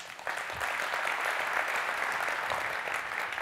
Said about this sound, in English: I'd like to extend a round of applause for her as well.